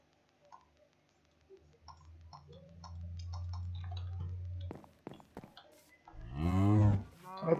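Cows mooing in Minecraft: a low drawn-out moo in the middle, then a louder, rising and falling moo near the end, among soft clicks and small game sounds.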